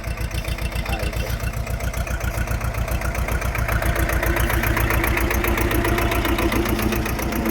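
A tractor engine runs steadily during field soil work with hydraulic earthing-up, a loud, close, rapid diesel chug that keeps an even rhythm and swells slightly partway through.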